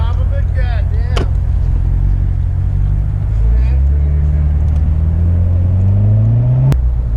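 A 2016 Chevrolet Corvette C7 Stingray convertible drives along, its engine a deep steady rumble that climbs in pitch as it accelerates, close and loud, with a voice talking over it.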